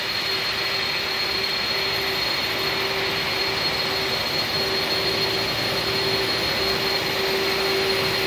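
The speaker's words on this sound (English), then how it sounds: "it sounds like any other aircraft taxi pass." Airbus A310 corporate jet taxiing past in the X-Plane 11 flight simulator, a steady loud jet engine whine and roar with a constant tonal hum, sustained and unchanging throughout with no voices.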